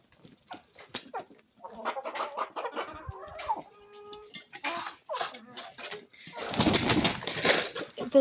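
Chickens on a poultry farm that also keeps ducks cluck and squawk close by in irregular bursts, building to a loud flurry of flapping and calling near the end.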